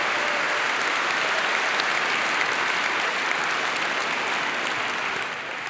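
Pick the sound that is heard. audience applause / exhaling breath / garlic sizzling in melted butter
audience applause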